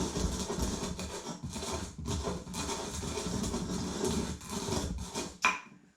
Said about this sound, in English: So now we need to grind them.